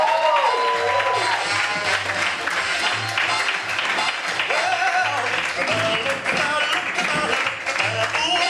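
An audience applauds and cheers to welcome a performer to the stage, loud and sustained clapping mixed with crowd noise and musical tones, with voices over the top.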